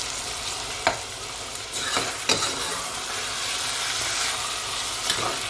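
Onions frying with garlic, ginger and salt in oil while being stirred, a close steady sizzle broken by several scraping knocks of the spoon against the pan.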